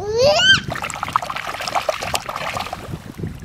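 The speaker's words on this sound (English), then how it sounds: "Let's put the clownfish back in the water." A toy clownfish goes back into bath water with a short splash and trickle after a rising squeaky toy sound, followed by light dribbling and sloshing.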